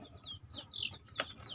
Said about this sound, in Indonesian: Ini babon kampung